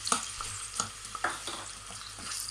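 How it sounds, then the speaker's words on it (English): Onions frying in a pan alongside peppers, a steady close sizzle broken by quick scraping stirs and a few sharper spits, with no talk. "I'm just going to add in some onions."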